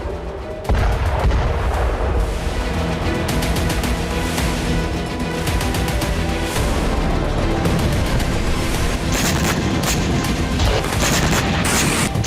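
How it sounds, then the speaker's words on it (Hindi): Israeli air strikes pound Lebanon with a loud, dense barrage of booming explosions and crackling gunfire that rumbles on almost without pause. "लेबनान का 1/4 इलाका बम गोला बारूद से दहलने लगा"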